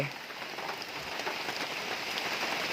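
Steady rain pours down, a dense continuous hiss of drops drumming on a surface with no gaps.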